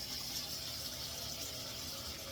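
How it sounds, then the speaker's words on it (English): Cold tap water runs steadily from a faucet into a kitchen sink, a continuous close hiss and splash with no voices. "I get cold water going here in my sink."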